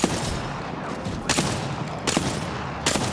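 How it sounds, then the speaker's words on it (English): Gunfire from a teammate in a multiplayer shooter game, a few sharp bursts of shots spaced about a second apart over a steady background of game noise. "That's my teammate I'm me. shooting."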